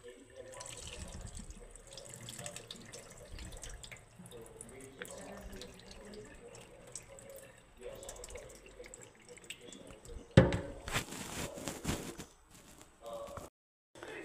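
Sliced potatoes being rinsed in a sink under a running tap, with steady splashing water and handling noises, louder splashes toward the end; a voice talks faintly in places.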